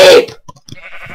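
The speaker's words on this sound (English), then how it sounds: "There's more pink sheep!" Sheep bleat in a video game world seed where the flock is pink: a short loud burst followed by a few softer bleating calls, close and clear, with no talking over them.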